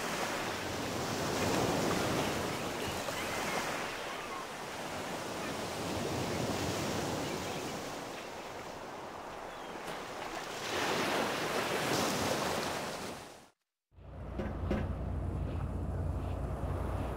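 Sea waves roll and wash continuously in the video game Reprobates, a steady surf roar with swells rising and falling, cut by a brief silence before the waves resume.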